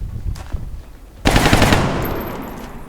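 Burst of automatic gunfire in the XCOM: War Within strategy game, a sharp loud volley erupting after quieter low rumbling and lingering into a ringing tail.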